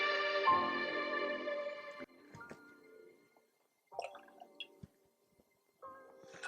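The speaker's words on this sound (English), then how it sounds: "These are some big limes, but juice of half a lime." Half of a big lime is squeezed by hand for a cocktail with triple sec, giving a wet squish and a few soft juice drips and trickles, close and fairly quiet, followed by brief small knocks.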